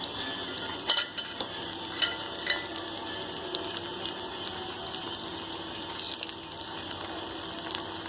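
Meal maker soy chunks fry in hot oil with a steady close crackle and sizzle, occasional sharper pops and stirring scrapes breaking through.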